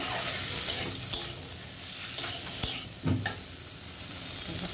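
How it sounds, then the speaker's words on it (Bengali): Rui fish curry sizzles and is stirred in a pan as water goes into the sautéed masala, a close steady frying hiss broken by a few sharp clinks of the spoon. "কষানো আমার হয়ে গেছে, এবার জলটা দিয়ে দেবো।"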